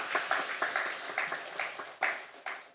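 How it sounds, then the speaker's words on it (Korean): An audience at a university worship service claps in welcome, a steady crowd applause with scattered sharper claps, fairly close and carrying on without voices. "여러분 박수 한번 하겠습니다."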